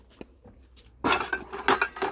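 Dishes, pots and cutlery are washed at an outdoor sink. After a quiet start there is a close burst of clattering and clinking that lasts about a second.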